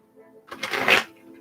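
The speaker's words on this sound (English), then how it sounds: "I shuffled those in." Tarot cards being shuffled, a brief close riffling burst lasting under a second, faint and alone.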